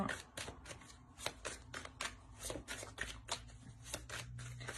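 Tarot cards shuffled and drawn at close range, a rapid run of crisp riffling flicks and slaps with brief pauses between bursts.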